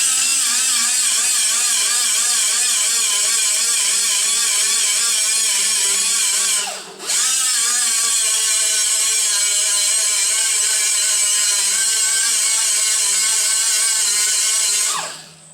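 A high-speed sander grinds paint off metal in a steady, loud whine with rich harmonics, dipping briefly near the middle as it unloads and spinning down at the end; no voices.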